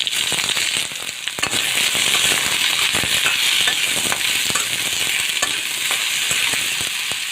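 Loud, dense frying with rapid spitting pops and crackles over a constant hiss, close by and unbroken throughout.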